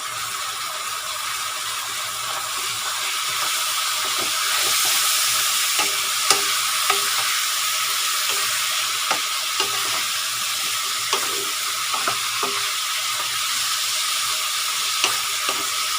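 Eggplant and pork neck stir-fry in a hot pan with basil leaves, giving a continuous close sizzle punctuated by scattered metallic clicks and scrapes of a spatula, and no voices.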